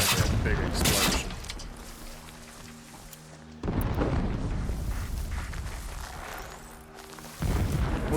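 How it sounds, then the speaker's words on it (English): In Horizon Zero Dawn Remastered, heavy booming blasts erupt in repeated loud bursts with rumbling debris and crackle between them, while tonal game music hums in the background. "Oh yeah, this is going to be a big explosion."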